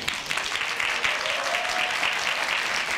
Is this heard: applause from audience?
yes